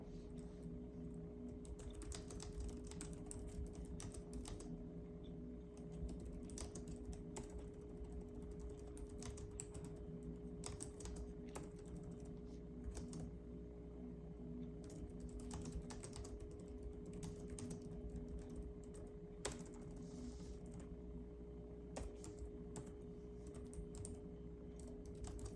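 Steady computer keyboard typing during an appointment-booking roleplay, a continuous patter of close key clicks over a constant low hum with no talking.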